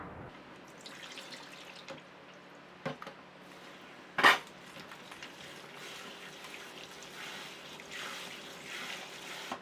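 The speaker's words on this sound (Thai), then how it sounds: "พอแช่ครบเวลาเราก็นำมาล้างน้ำให้หมดความเค็มความเปรี้ยวสักประมาณ 2-3 น้ำค่ะ" Soaked mango pieces are rinsed in water to wash off the salt brine, with running water, soft splashing and a few sharp clinks of a bowl or utensil against a sink.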